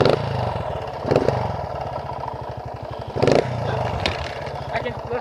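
A dirt bike engine revving close by, a steady mid-pitched motor drone with repeated surges of throttle and clattery bursts.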